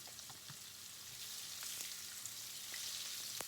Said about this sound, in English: Heat up 1 cm of the oil and fry the salted fish.